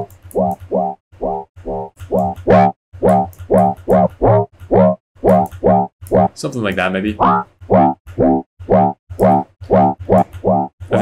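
A Serum synth plays rapid, evenly pulsing dubstep notes while an LFO on the resonant filter cutoff wobbles and sweeps through the tone; a voice speaks briefly.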